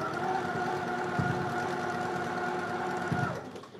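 A sewing machine runs steadily while stitching quilt blocks, its motor humming evenly, with a couple of soft dull thumps as the needle passes over a lump in the fabric near the end before it stops.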